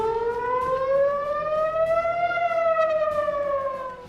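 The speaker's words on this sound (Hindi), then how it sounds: "जिसके बाद पूरे इजराइल में हवाई हमले के सायरन बजने लगे" A loud air raid siren wails steadily across Israel during an Iranian attack, its pitch slowly rising and then falling, with no voices.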